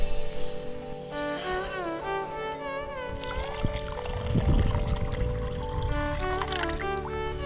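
Soaked dal, toor and chana lentils, being washed in water in a village kitchen, with pouring and swishing water close by alongside sloshing and trickling, no talking.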